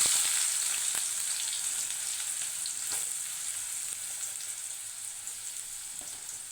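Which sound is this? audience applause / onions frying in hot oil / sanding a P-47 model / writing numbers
onions frying in hot oil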